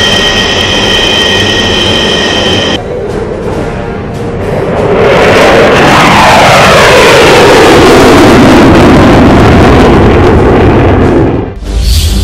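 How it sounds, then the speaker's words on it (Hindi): Fighter jets roar overhead at the Jodhpur air base during the Aviandra-20 exercise. A loud, sustained jet engine roar swells and passes with a sweeping pitch change, then a further burst comes at the end, with no talk. "फाइटर जेट्स के जोर से जब थर्रा उठा आसमान"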